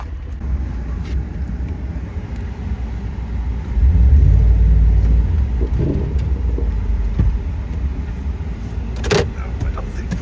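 A Ford F-150 pickup truck's engine revs up while the truck tries to drive off, with a loud low rumble swelling for a few seconds and then easing back to a steady drone.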